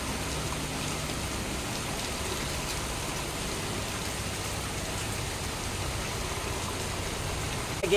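Steady rain pours down throughout, a dense even hiss with no pauses and no voices.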